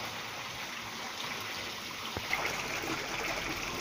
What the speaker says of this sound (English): So they have started receiving water as well.